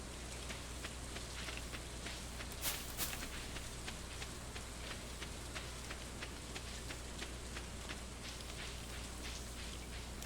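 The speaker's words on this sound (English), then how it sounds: "the rain is not helping me water any plants" Steady rain falls in a farming video game, a dense even patter of drops that runs throughout at a soft, constant level.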